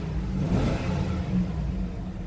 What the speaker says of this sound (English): Go ahead and turn the fan down here a little bit so you guys can hear me rev it up.